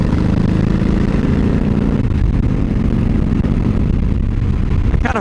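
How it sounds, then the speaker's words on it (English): Low, throaty exhaust rumble of a 2003 Harley-Davidson Fat Boy 100th Anniversary Edition, steady and loud throughout, idling or riding on a humid summer day in Illinois. "I kind of hope you guys are picking up on some of that noise from the exhaust, because it's the best feature of this bike"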